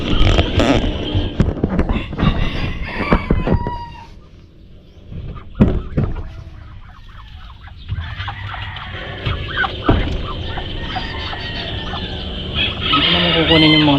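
Chickens in a backyard coop with newly hatched chicks, clucking and calling in bursts with a crow-like call near the start, close by and fairly loud, with a brief quieter lull in the middle.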